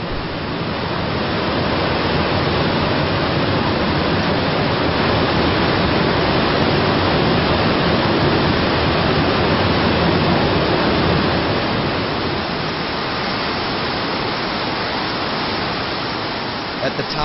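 Nevada Fall in Yosemite, the Merced River plunging onto a steep granite wall, roars as a steady, dense, loud wash of falling water with no letup.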